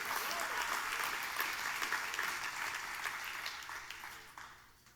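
A church congregation breaks into sustained applause after a pastor's sermon, a dense crackle of many hands that holds steady and then thins and fades toward the end.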